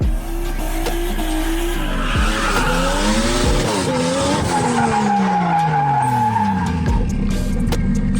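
A car drifting in a music video, with loud continuous tire squeals and engine revs rising and falling in sweeping arcs over a steady music bed, sustained for the full stretch with no talking.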